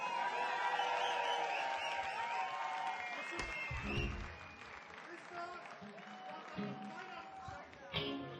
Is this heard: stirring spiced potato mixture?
no